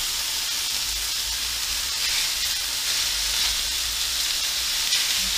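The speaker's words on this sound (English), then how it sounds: "Let's throw in the stir-fry beef." Stir-fry beef and oyster mushrooms sizzle steadily in a hot pan, a continuous bright frying hiss with no talking, holding at a fairly loud level throughout.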